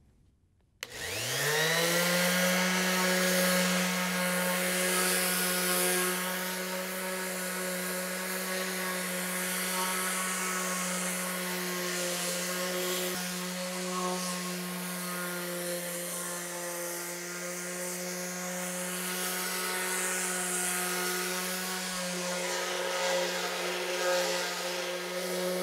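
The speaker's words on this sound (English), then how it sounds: "So that's good for the first rough sanding." An electric power sander with coarse 80-grit sandpaper works a wood board for a DIY mid-century modern TV stand, starting abruptly and then droning steadily and loudly with a high whine for over twenty seconds.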